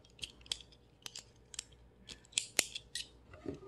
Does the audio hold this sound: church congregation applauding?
no